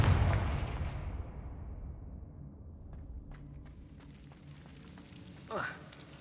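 A Confringo fire spell blast in Hogwarts Legacy, with a booming, rumbling explosion up front that decays into a long tail, followed by faint scattered crackles and a short whoosh near the end.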